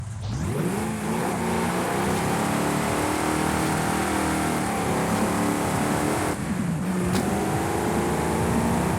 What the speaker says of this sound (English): now we go ahead and listen to this engine rumble